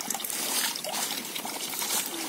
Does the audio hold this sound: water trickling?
yes